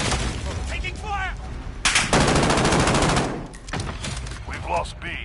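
Rapid automatic gunfire and bursts in the video game Modern Warfare (2019), Domination mode, loud and close, mixed with in-game radio voices and effects.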